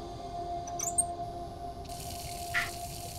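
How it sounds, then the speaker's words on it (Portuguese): Water starts running from a tap in the horror video game Layers of Fear, a steady hiss after a few faint drips and clicks, moderately quiet and without talk. "Saindo água."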